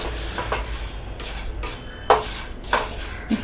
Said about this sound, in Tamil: இப்போ நம்ம நல்லா வறுத்துட்டோம்.